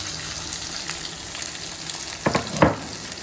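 Crushed garlic sizzles steadily in hot oil in a pan, cooked with buttermilk chillies and curry leaves for a banana stem poriyal. A couple of louder bursts of stirring and spattering come near the end.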